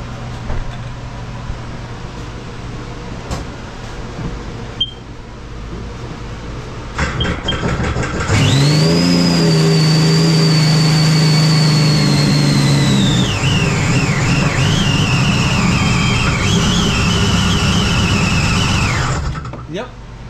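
A jet ski engine with a wire harness fault cranks, catches and runs loudly, revving up to a sustained high whine that wavers and dips before cutting off near the end; brief clicks precede the start.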